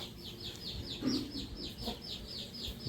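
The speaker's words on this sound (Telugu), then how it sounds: "భలే ఉంది కదా పందెం కోడి" A fighting rooster clucks softly in a rapid repeated series of short calls, fairly close, with a low voice briefly underneath.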